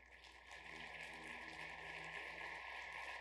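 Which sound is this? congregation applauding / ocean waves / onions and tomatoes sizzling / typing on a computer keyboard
congregation applauding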